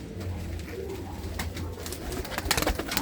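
Red pigeons with white eyes coo in low, repeated throaty notes close by, with a brief burst of fluttering and rustling toward the end.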